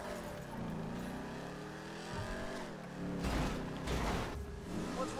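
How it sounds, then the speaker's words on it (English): A car taking damage in GTA Online: a steady engine drone with scraping and crunching impacts building toward the end, loud and close, with no talking. "damage the car as much as I can before it starts smoking"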